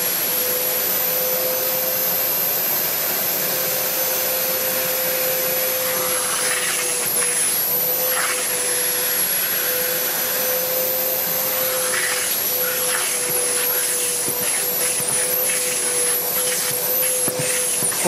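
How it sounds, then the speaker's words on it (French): A Kärcher 4001 injector-extractor carpet cleaner runs continuously with a loud, steady suction whine and hiss, shifting slightly as the head is moved over the fabric. "Quand tu passes l'injecteur extracteur,"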